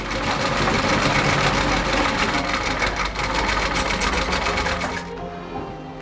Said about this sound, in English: In tailoring, we stitch uniform for our school and in other neighboring schools.